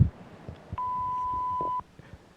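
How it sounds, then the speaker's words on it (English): A single flat electronic answering machine beep holds for about a second, clear and alone over a quiet line hiss. "Beep."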